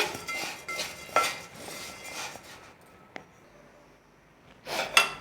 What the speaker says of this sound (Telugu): ఇప్పుడు గిన్నెలోకి తీసేసుకుందాం